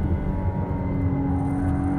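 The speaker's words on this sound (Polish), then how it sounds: "Turbodoładowane V6. O kącie rozwarcia 120 stopni, co być może słyszycie, bo to jest takie dosyć specyficzne brzmienie." A turbocharged 120-degree V6 in a McLaren Artura on the Ascari race track makes a steady, close, loud engine drone with a deep rumble, held evenly throughout with no talking.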